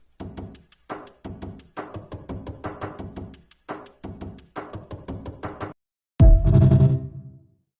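A drum kit built from Roblox video game door sounds with added bass and reverb: a run of short, punchy percussive hits in a steady beat-like pattern, followed by a sudden loud, booming hit with a ringing reverberant tail.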